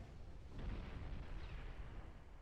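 Naval shells in Ultimate Admiral Dreadnoughts, a muffled distant boom followed by a rumbling roll of gunfire, fairly faint and with no voices.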